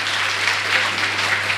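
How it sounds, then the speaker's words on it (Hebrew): Audience applause at a religious lecture, a steady wash of many hands clapping at moderate loudness throughout, with a faint hum underneath. "מגיע לו מחיאות כפיים"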